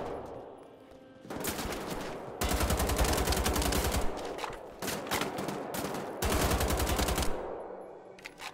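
Long bursts of rapid machine gun fire in the video game Wolfenstein: The Old Blood, several sustained volleys separated by brief pauses, loud and sharp with a slight echo.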